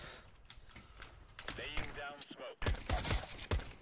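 Gunfire in the video game CS:GO crackles in quick bursts of sharp shots, with a clustered volley near the end, mixed under gamers talking.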